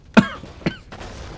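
A commentator casting a Warcraft III match coughs twice, close to the microphone: one sharp, strong cough, then a second, weaker one a moment later.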